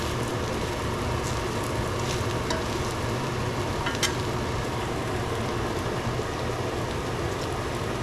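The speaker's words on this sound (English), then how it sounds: "You see those tomatoes kind of cooking up in there." Tomatoes fry in a hot pan while okra cooks, a dense, even sizzle and crackle running throughout, close and loud, with a few faint clinks and no voices.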